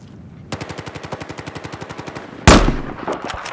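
Automatic gunfire in the video game Battlefield: a rapid, even string of machine-gun shots, loud and close, broken by a sudden heavy blast, followed by scattered further shots.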